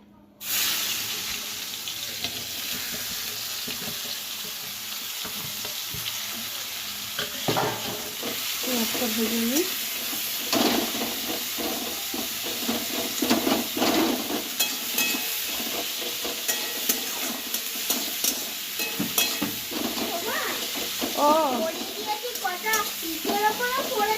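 Potatoes and chopped onion fry in a pan for a chicken curry, a close continuous sizzle broken by scraping stirs and clatter, with a voice talking over it at times.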